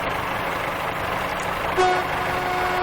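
A video-game train whistle on the Riviera Line in Train Simulator 2016 sounds partway through and holds a steady tone over a constant engine rumble.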